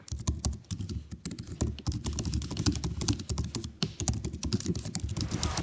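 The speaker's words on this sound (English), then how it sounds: "The keys have a millimeter of travel, they're just clicky enough without being too loud" Fingers type steadily on a MacBook Air 2020 keyboard with shallow-travel keys, giving a close, continuous patter of soft clicky keystrokes with no voices.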